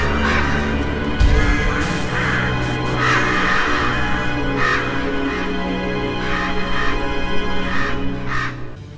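Crows caw repeatedly in the video game Selma and the Wisp, with loud harsh calls in irregular bursts over a continuous droning game soundscape.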